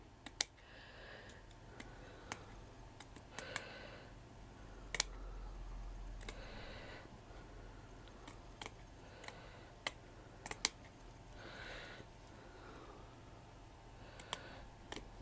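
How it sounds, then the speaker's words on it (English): Scissors snip through the middle of a lace doily in a quiet room, with sharp, irregular clicks and small crunches spaced through a soft background hum, close and fairly faint. "I snip out the middle like that, and I can use the doily up."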